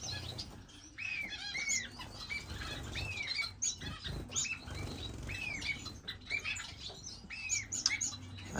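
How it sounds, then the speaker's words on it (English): Finches flutter and chirp in a bird room, with a steady busy wash of flapping wings under many repeated bright upward chirps from several birds close by, with no talking. "still got a bunch of birds in here"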